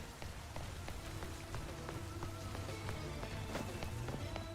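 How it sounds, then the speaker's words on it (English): Steady rain falling in the video game Pokemon Legends Z-A, a soft, even patter of drops on surfaces that continues unbroken throughout with no talking. "I know, it's because of the rain."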